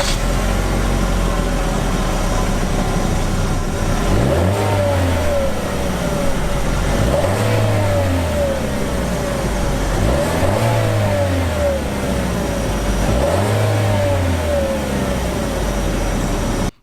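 A car's 1.4 liter 4-cylinder engine revs repeatedly, each rise and fall of pitch coming in a steady rhythm over a continuous loud running drone, with no voices.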